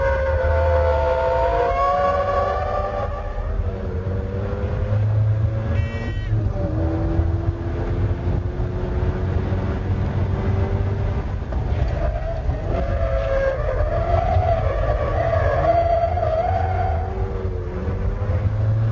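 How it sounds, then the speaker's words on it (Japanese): A stock Mazda RX-7 FC turbo performs a braking drift on a circuit at Ebisu, engine revving loud and steady with tires squealing in long sliding wails throughout. "これがブレーキングドリフトだ。"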